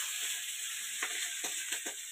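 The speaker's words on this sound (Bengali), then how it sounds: "মাছ ভাজা চলছে এখন" Fish frying in a pan at an outdoor midday cooking spot, a steady close sizzle with a few brief louder bursts of spitting oil, no talking.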